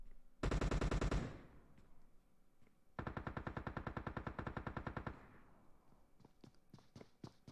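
Automatic gunfire in PUBG on Miramar, with two loud sustained bursts of rapid shots and scattered single shots after them, close and sharp with no talk over them.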